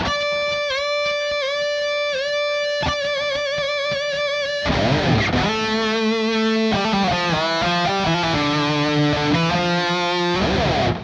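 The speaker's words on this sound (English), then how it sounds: "So all together, section 1 is going to sound something like this." Heavily distorted electric guitar plays the first section of a song: sustained bent lead notes over chugging chords, then a thicker, louder riff with chord changes, loud and alone without talk.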